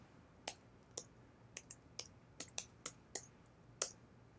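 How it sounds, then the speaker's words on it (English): About ten separate clicks of a computer keyboard come one after another at an uneven pace, quiet and close as a message is typed into chat, with no voices. "I'll type it in chat. That's probably easier."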